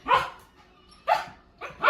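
A dog at home barks three times in separate short, loud bursts with quiet gaps between them, and nobody speaks.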